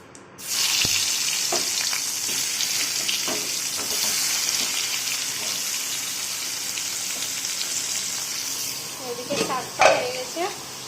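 Fish fries in oil with a close, continuous bright sizzle that holds steady, then a bit of pan clatter and a brief voice near the end.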